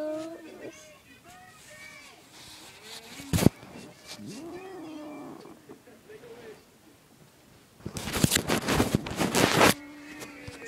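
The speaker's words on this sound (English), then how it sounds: "I want to show you my cat." House cat meowing indoors, several short cries and drawn-out yowls scattered through, mixed with someone talking, handling noises and a loud rustling burst near the end.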